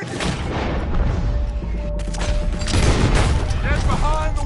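A chaotic gunfight in the game Red Dead Redemption 2 produces a loud, continuous barrage of gunshots and booming reports, with overlapping clatter and shouted voices throughout.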